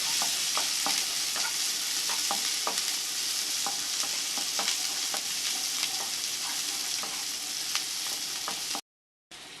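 Onion and chana dal sautéing in a pan for a kothavarangai (cluster bean) poriyal: a steady, loud sizzle with scattered stirring clicks throughout, then a brief dropout near the end.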